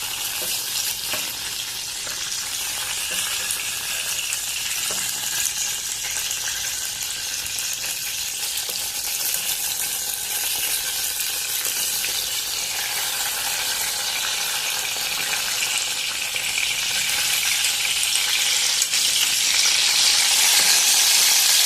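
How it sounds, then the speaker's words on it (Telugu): Brinjals fry in plenty of oil in a pan for a masala curry, a loud, dense, continuous sizzle heard close up with no talk, growing a little stronger toward the end. "వంకాయలు బాగా వేగిపోయినాయి, తీసేద్దాం"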